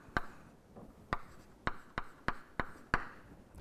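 Chalk or marker strokes on a board while working through polar-coordinate math, seven sharp separate taps and scrapes spaced unevenly over a few seconds, close and clear against a quiet room with no talking.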